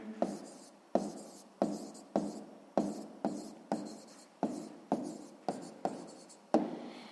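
A pen scratches across paper while a math answer is written out, about ten short strokes in a steady rhythm, each a crisp scrape fading quickly, close and clear with no talk.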